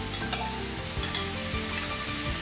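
Green onions, broccoli, kale and red and green peppers sauteing in a heated skillet, a continuous close sizzle with a few light clicks of stirring, no one speaking.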